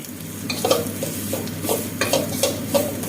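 Sliced shallots sizzle in hot oil in a wok, with a steady frying hiss broken by repeated close scraping and stirring strokes of a utensil against the pan.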